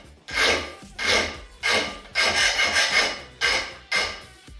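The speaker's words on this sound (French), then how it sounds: "Un petit test de lime." A metal file scrapes across a hardened, quenched forged knife blade in a series of six loud, close rasping strokes, each a short burst with brief pauses between, some strokes running together.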